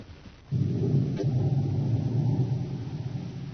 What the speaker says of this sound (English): As the storm builds in violence, Buzz and Happy stand in the darkened office